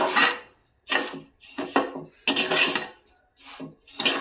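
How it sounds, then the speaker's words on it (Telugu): Semolina roasts in ghee in a pan while a spoon stirs and scrapes in loud, close bursts separated by short pauses. "ఇలా ఇప్పుడు నెయ్యి వేసుకొని మొత్తం అంతా కూడాను లైట్ రెడ్ కలర్ వచ్చినంత వరకు దోరగా వేయించుకోవాలి"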